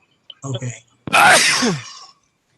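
A single loud sneeze bursts out during a wetlands commission meeting, following a brief spoken word, close and sharp with a short inhaled lead-in.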